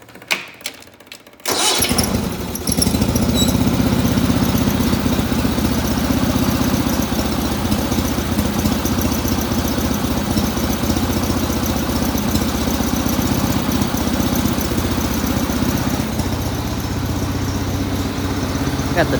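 A 1979 19.9 riding mower engine starts up after a brief quiet moment, then runs steadily at a loud, even idle for the rest of the clip, close by, with no talking.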